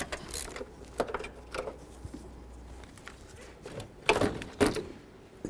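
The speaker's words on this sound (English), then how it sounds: "Grab a ratchet, an extension, and a 10. You're going to come all the way down in here, and you're going to disconnect or loosen the battery hold down." A ratchet with an extension loosens the battery hold-down on a 2008-2012 Jeep Liberty, heard as bursts of quick metallic clicking, close and fairly loud, with short pauses between turns.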